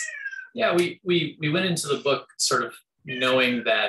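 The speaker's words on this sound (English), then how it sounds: "apologies for the cat meowing in the background who wants to be on screen" Pet cat meowing in the background of a room, a few short cries buried under steady close-up talking.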